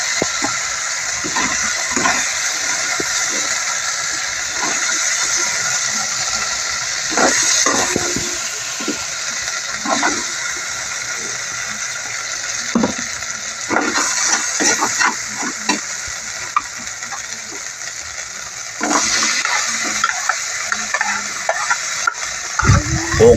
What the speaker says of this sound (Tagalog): Ginisa ko muna sa mix ang ating mga gulay at ang mga ating ingredients.